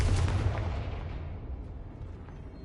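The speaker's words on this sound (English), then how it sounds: "Confringo!" A Confringo explosive spell blast in the Hogwarts Legacy video game on PS5: a single loud, broad boom that hits at once and rumbles away over a couple of seconds.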